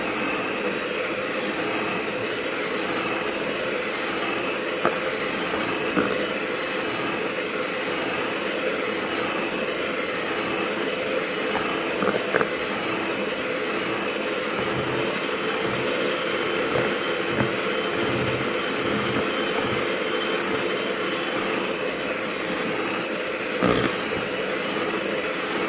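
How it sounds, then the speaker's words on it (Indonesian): An electric mixer beats an ice cream mixture, giving a steady, even whir that runs without a break, with a few faint clicks and no talking. "Kita mixer, ya, sambil mixernya itu kita gerak-gerakkan, ya, ke arah jarum jam"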